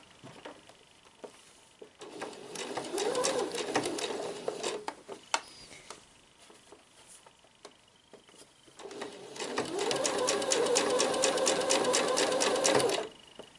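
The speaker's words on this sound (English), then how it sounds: "And I'm going to keep sewing like that until I get to the other side." Sewing machine stitching the lower tier of a shirred elastic summer dress, running in two long bursts of rapid steady stitching separated by a quieter pause.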